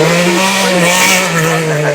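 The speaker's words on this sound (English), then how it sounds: "lovely pop and bang, flames the exhaust as well" A race car at the Goodwood Festival of Speed hillclimb sends out sharp exhaust pops and bangs over a loud, steady engine drone that fills the whole stretch, close and strong throughout.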